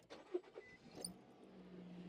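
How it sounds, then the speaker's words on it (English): A car with a dead battery, jump-started with a LIFMOCER GS500 jump starter, cranks after a few faint clicks and catches into a low, steady idle, heard close and fairly quiet with no talking. "about to turn the engine over"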